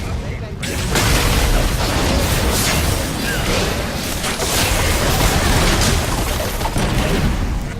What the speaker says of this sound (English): Una torreta del equipo rojo ha sido destruida.